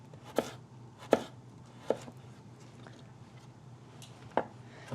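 A knife cuts kohlrabi into strips on a cutting board, making four crisp, separate chops spaced about a second apart over quiet room noise.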